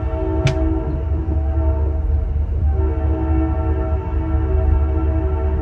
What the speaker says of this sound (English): the train horns here are unbelievable